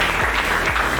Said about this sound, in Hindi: ताली बजाते रहें आप लोग।